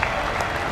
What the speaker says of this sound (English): Applause for Johnny